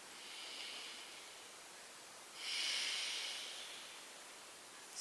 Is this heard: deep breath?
yes